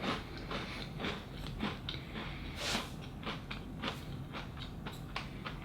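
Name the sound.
biting crunchy CBL Munchee Coconut Magic biscuit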